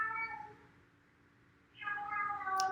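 A pet cat meows twice indoors, a drawn-out nasal wail that dips and then rises again, close and fairly loud.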